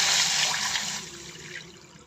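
Water pours steadily into a pan with a splashing, rushing sound that gradually softens and thins out toward the end.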